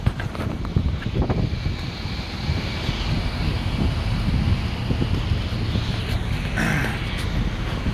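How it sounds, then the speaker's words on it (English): Strong wind roars steadily across the microphone beside a reefer truck, a constant heavy rush with gusty buffeting and no voices. "Oh man, it's freaking windy."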